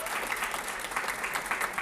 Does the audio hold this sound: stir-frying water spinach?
no